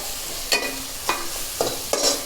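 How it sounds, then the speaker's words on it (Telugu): Mint paste frying in a pan for chicken curry, a soft steady sizzle punctuated by four sharp scraping strokes of a spoon stirring it, close and without talk. "ఇదంతా బాగా పొసురు వాసన పోయిందాక బాగా వేపుకోవాలండి"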